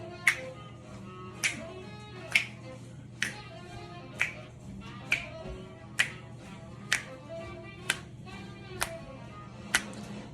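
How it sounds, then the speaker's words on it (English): Crisp finger snaps keep a steady beat on two and four over quiet jazz music in a home kitchen, about a dozen evenly spaced snaps in total. "always clap or snap on 2 and 4."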